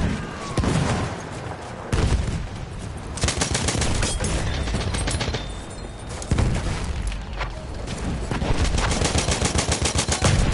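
Browning M1917 machine gun in Battlefield 1 firing long sustained bursts, a rapid even rattle of close, loud shots broken by brief pauses and scattered explosions, with faint voices underneath.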